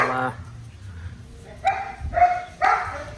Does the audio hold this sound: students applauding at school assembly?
no